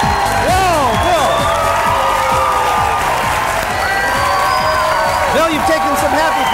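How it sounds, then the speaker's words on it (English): A television studio audience cheers, whoops and applauds loudly and steadily throughout, a dense crowd roar with whistles and shouts and no pause. "Let's let the tumultuous applause die down so they can even hear us."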